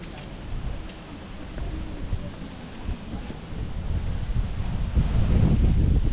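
Steady wind rushing and buffeting over the microphone during a ride in Tagaytay, Philippines, growing louder toward the end, with a low rumbling roar and no voices.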